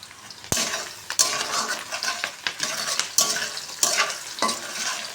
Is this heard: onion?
yes